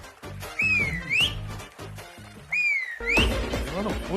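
A man in a Tamil TV serial scene tries to whistle, producing two thin, rising and falling whistle tones with rustling movement and breathy noise between them, close and fairly loud.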